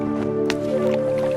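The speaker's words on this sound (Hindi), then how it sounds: "अब आप इन दोनों घड़ों को पानी में डाल दीजिए।" Two clay pots are dipped into water, making short wet splashes and drips over a steady tonal background.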